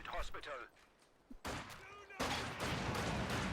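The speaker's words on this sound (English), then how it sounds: "Ooh, rifle grenade got fired." A rifle grenade fired in the Company of Heroes 2 strategy game, a short muffled launch followed by dense battlefield gunfire and explosions that swell and continue; no talking.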